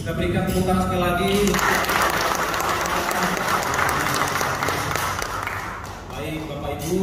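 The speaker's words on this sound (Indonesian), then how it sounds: "Kita berikan tepuk tangan sekali lagi." An audience claps at a church fellowship's 47th anniversary celebration, a full, dense round of applause swelling after a few seconds and holding steady, with a voice heard near the start.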